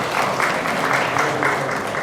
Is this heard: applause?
yes